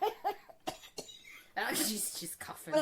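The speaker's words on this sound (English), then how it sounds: "She's coughing." A person coughs a few times in quick bursts, followed by a longer, breathy fit of coughing and then another short cough, close and fairly soft.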